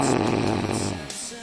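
Someone snores loudly over a Teamspeak voice chat, a rough, buzzing inhaled rasp heard through a compressed, hissy microphone connection, fading toward the end with no talking.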